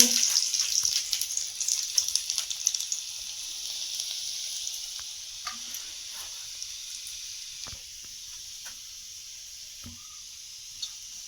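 Garlic hitting hot oil for a tadka, with green chillies set aside, a loud hiss and crackle at first that gradually settles into a quieter, steady sizzle with a few sharp pops.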